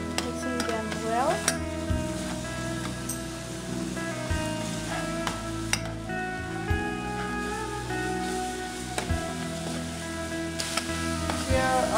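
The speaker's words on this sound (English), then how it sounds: "Here I have added the raisins and mixing them well." Raisins are stirred into carrot halwa in a pan. A steady sizzle runs underneath while a spatula scrapes and taps the pan at an unhurried, repeated pace.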